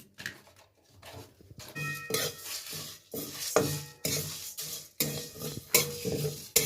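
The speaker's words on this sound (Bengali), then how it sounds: "এবার মুগ ডালটাকে আমি ভেজে নিচ্ছি।" Mung dal dry-roasting in a pan with two bay leaves, stirred repeatedly with a utensil that scrapes and taps against the metal in an uneven rhythm, with a faint sizzle underneath, close and fairly quiet, with no talking.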